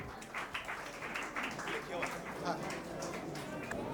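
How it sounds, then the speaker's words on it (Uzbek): An audience applauds at an olympiad award ceremony, with a dense, steady wash of clapping from many hands that holds for the whole moment while voices murmur underneath. "qarsak chop turamiz ustozlarga e'tirof"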